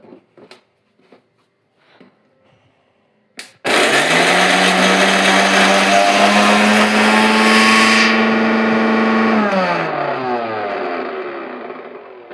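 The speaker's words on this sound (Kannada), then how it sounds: "ಇನ್ನೊಂದು ಸ್ವಲ್ಪ ಜೀರಿಗೆ ಹಾಕಿ ಇದನ್ನ ಸ್ವಲ್ಪ ಗ್ರೈಂಡ್ ಮಾಡಬೇಕು" A mixer grinder blends chilli paste with cumin. A few soft knocks come first, then the motor starts abruptly with a loud, steady whine for about six seconds before winding down and fading.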